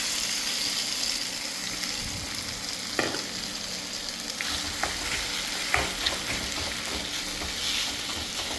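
Prawns sizzle steadily in hot coconut oil while being stirred, with a continuous frying hiss broken by a few sharp scraping clicks from the stirring utensil, close and alone with no talk.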